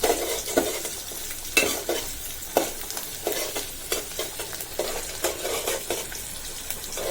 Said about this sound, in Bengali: শাক ভাজি করার জন্য আমি পেঁয়াজ আর রসুন তেলে ভেজে নিচ্ছি